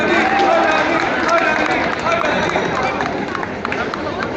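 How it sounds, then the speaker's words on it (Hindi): An audience at a Hindi department event at Jamia Millia Islamia applauds loudly to welcome the chief guest, a steady wash of many hands clapping close by with crowd murmur mixed in. "जोरदार तालियां बजाकर उनका स्वागत करिए"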